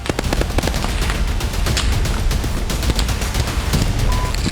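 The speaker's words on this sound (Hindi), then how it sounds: "यहां सैनिक एक दूसरे पर गोलियां बरसा रहे हैं।" Dense, continuous crackle of rapid gunfire and bursts between soldiers in the Russia-Ukraine war, sustained and fairly loud throughout with no voices.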